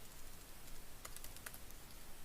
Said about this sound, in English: I'm gonna type password